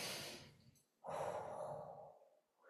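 Slow, audible breaths held in a yoga side-stretch pose, a long soft exhale followed by a fuller, louder breath, close and alone with no talk.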